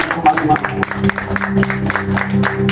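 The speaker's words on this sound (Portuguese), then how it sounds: "Pode aplaudir ao Senhor Jesus Cristo." A congregation at a Portuguese-language prayer and fasting service claps in short, uneven bursts alongside a steady tonal hum, moderately loud and close.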